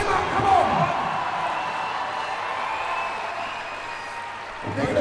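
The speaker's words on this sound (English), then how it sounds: "The crowd have gone absolutely ballistic." A crowd roars, cheers and applauds steadily and loudly after a new world record lift at the 2018 Strongman World Championship, with a swell at the start and again at the end.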